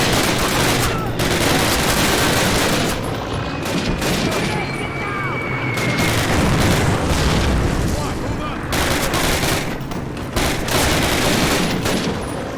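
Dense, continuous gunfire and explosions from a Call of Duty match, loud and rapid with bursts of automatic fire and booms, while players talk over the action.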